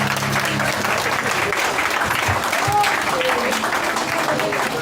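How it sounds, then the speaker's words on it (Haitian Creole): A church congregation applauds steadily in a dense, continuous wash of clapping, with faint voices mixed underneath. "Un applaudissement pour Jésus."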